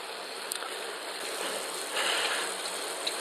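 River rapids rush beneath a bridge, a steady, broad hiss of churning water at moderate volume with small splashes and faint ticks rising out of the continuous wash.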